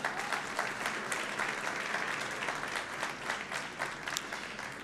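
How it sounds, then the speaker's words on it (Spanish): An audience at a Spanish-language keynote conference for schoolteachers claps steadily, a dense wash of applause from a sizeable crowd that holds throughout at a fairly even level with no talk over it. "Un aplauso."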